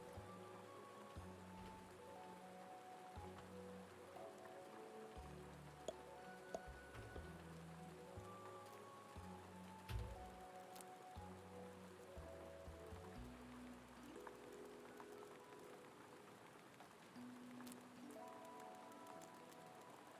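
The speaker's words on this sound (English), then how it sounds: "Rain sounds in this game are pretty good." Rain ambience in the Odd Realm video game: a soft, continuous hiss of falling rain under quiet layered game music with low drones, faint throughout and no talk.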